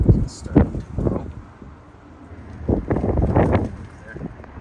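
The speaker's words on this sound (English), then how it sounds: "A little windy up here, but we are on the balcony, so that's expected." Wind buffets a microphone on a balcony garden in gusty bursts, low rumbling thumps that rise and fall, with a voice speaking nearby.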